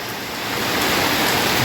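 Steady rain pours down during a storm in Laos, a dense, hissing wash of drops that swells slightly louder over a couple of seconds, with no voices.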